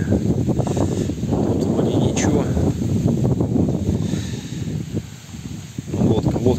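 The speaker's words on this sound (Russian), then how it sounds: "вот ветер какой" Gusty wind roars steadily across the microphone, with someone talking throughout over the buffeting rush.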